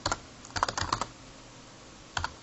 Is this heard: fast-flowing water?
no